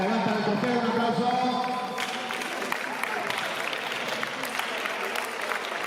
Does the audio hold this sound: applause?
yes